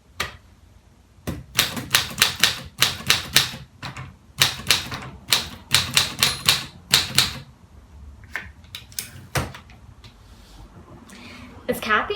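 A World War II era typewriter typing in bursts of sharp, close keystrokes with short pauses between runs, loud and alone, trailing off into sparser strikes near the end.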